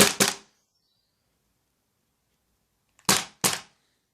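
A custom GHK G5 airsoft gun with an integrated suppressor and buffered stock fires two quick pairs of muted, sharp pops, separated by about three seconds of silence.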